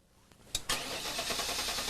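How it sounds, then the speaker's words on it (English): A General Motors LT1 engine cranks briefly, catches with a couple of sharp thumps and settles into a steady, loud running roar, heard close with no talking. "Crank the engine."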